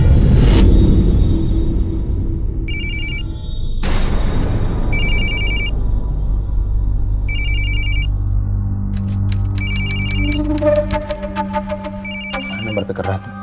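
A telephone rings in repeated electronic bursts in an indoor drama scene, sounding over a low rumbling music bed and a sudden swoosh, with later ringtone-like chimes.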